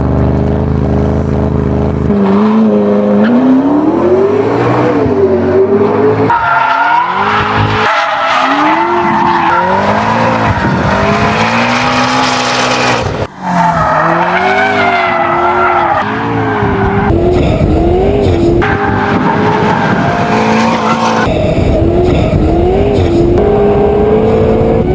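A McLaren Spider in Need for Speed Rivals, its engine roaring loud through gear changes with long bursts of tire squeal and skidding, no voices.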